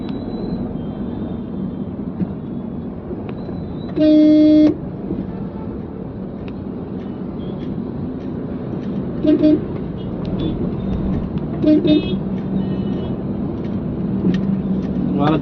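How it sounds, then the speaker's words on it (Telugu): Dense city traffic on a road in Hyderabad, with a constant rumble of passing vehicles. A long horn blast cuts through clearly, and several shorter toots follow later. "ఇంత ట్రాఫిక్ అయ్యా"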